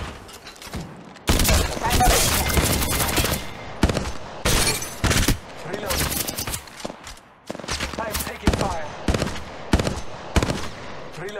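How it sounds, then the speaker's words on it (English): Rapid bursts of gunfire from an Apex Legends Mobile match, loud and close, with automatic fire coming in repeated volleys over about ten seconds, broken by brief pauses and mixed with game effects and some in-game voice. "Shots fired at me"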